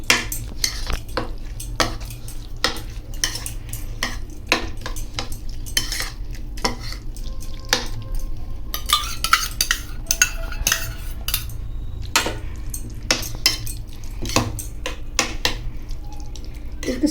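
A spoon stirs and mixes curd in a bowl for a sandwich, giving a run of close, irregular scraping and clinking strokes with no talk.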